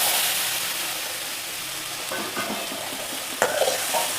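Green gram is stirred as it fries in hot oil in a pan with mustard seeds and urad dal, giving a steady close sizzle with soft scraping strokes and a sharper clink near the end.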